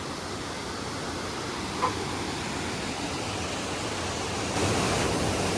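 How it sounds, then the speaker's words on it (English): A steady, broad rushing roar of Mae Ya Waterfall in Chiang Mai, Thailand, filling the scene evenly, with no talk, swelling slightly louder near the end. "this waterfall is worth the trip"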